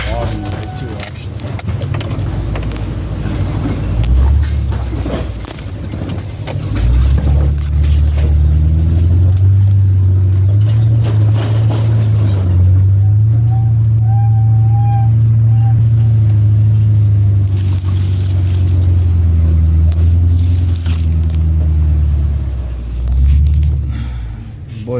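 A vehicle engine climbs a hill on a woodland food plot, its low, steady rumble swelling louder through the middle and easing off near the end, close and continuous.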